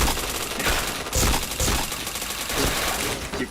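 Rapid automatic gunfire in the shooting game Point Blank, dense bursts of shots fired close and loud with almost no pause across the whole stretch.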